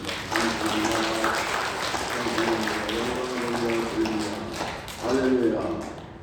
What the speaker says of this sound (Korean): 하나님께 감사와 찬송과 영광의 박수를 올려드리겠습니다